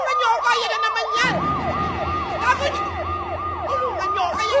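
Emergency sirens wail in a steady repeating up-and-down cycle, loud and continuous, with a lower droning rumble entering after the first second amid a noisy outdoor scene during a live street segment.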